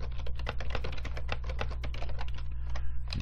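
Typing on a computer keyboard: quick, irregular key clicks close by, steady over a low constant hum, with no talking.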